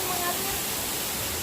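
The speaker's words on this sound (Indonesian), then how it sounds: "Ini adalah air terjun Talawaan Punan" A waterfall about 30 meters high in North Minahasa, with a river flowing below, roars as a steady, close broadband rush of falling water, and a voice talks over it.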